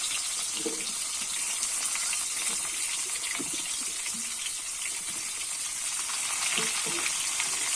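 Potato and pumpkin pieces frying together in oil in a pan, a constant close hiss of sizzling with occasional soft knocks of stirring, no voices over it.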